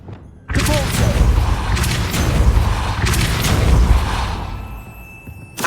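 Depulso force spell cast in the video game Hogwarts Legacy, a heavy booming blast with rumbling low impact that swells and sustains for several seconds, with a second surge midway, loud and close.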